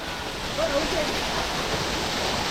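Mountain stream water rushing down a rocky hillside on the Harishchandragad trek, a steady broadband roar that stays loud and unbroken throughout, with no pauses or distinct splashes.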